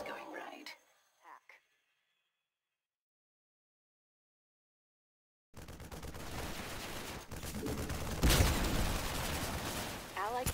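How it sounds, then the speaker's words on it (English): Gunfire from forces in StarCraft 2 erupts after a few seconds of silence, a dense rattling barrage with a louder burst near the end, preceded briefly by a spoken voice. "Our forces have opened fire."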